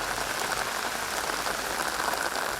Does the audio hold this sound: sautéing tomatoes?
no